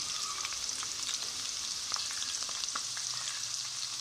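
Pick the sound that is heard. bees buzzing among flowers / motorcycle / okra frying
okra frying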